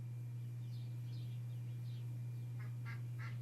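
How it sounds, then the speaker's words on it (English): Ducks quacking faintly in the distance, a few short scattered calls and then a quicker burst near the end, over a loud constant low electrical hum. "Now the ducks are going."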